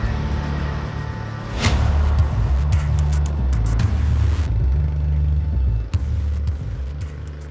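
A car engine rumbles steadily at close range, idling and moving with low droning tones and a few brief shifts, without speech.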